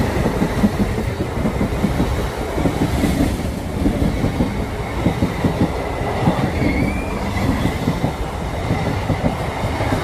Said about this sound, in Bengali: এপাশে রেল লাইন, পাশের দিয়ে এই ট্রেন যাচ্ছে।